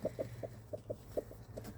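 Hens sitting on eggs in a nesting box give low, soft, rhythmic clucks, about ten short close-up clucks in under two seconds.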